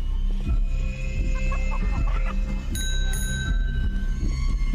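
A ringing sound in the horror stealth game Chicken Feet, a bright bell-like tone that sounds in short repeated bursts over a low droning background and some bumps.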